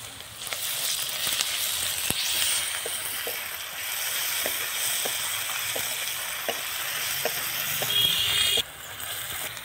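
Onions fry in a pan as garlic paste goes in for a meat curry, a constant close sizzle punctuated by regular light stirring taps, with a brief hissy flare near the end.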